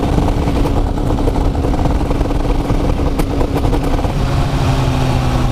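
Honda CBR 1000RR sportbike engine held on its pitlane limiter in second gear, a loud, close, steady rasping drone with rapid stuttering pulses from the rev cut, continuous throughout.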